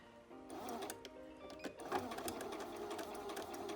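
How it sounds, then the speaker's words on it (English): Sewing machine stitching fabric with a reverse lock stitch, a close, steady mechanical whirring and rapid needle clatter that pauses briefly and resumes, rising slightly as the direction changes, with no talking. "So you just need to start a little stitch, do a reverse lock stitch, or if you've got the lock stitch button"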